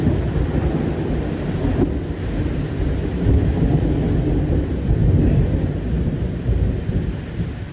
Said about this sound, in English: There was rain and lightning at some point almost every day